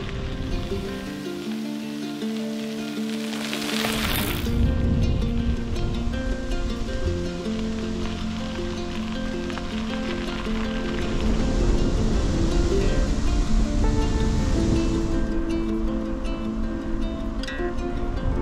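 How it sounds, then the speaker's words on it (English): Rain falls on lush green forest trees along a bikepacking route in Sweden, making a steady, dense hiss that stays loud and unbroken throughout, with faint tonal sounds running underneath. "these trees are protecting me from the rain"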